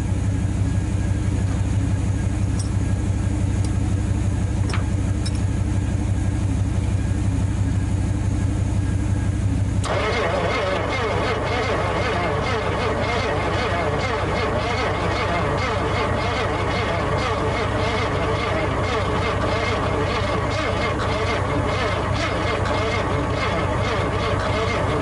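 A 1959 Ford F-100 engine cranks on a start attempt after sitting for 35 years, a loud steady churning that runs throughout and grows rougher and denser partway through.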